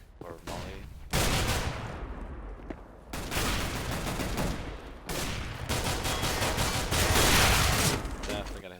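Gunfire bursts in a first-person shooter match, with dense, loud volleys in several separate bursts and short quieter gaps between them. A voice talks underneath.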